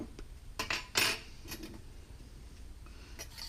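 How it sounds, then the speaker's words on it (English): A spoon stirs berry syrup in a pot, giving a few close metallic scrapes and clinks against the pot amid quiet background, with no talking. "Give this another little stir."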